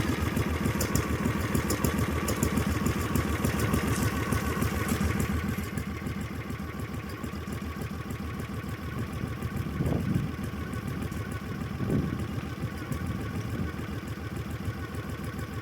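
An 18hp V-twin engine on a minibike idles steadily after starting, a loud, continuous rumbling throb with faint clatter that eases slightly partway through.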